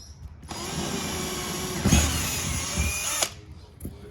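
A power drill whirs close and loud for about three seconds, driving a bolt through a jet ski seat strap, then cuts off, followed by a brief faint tool sound.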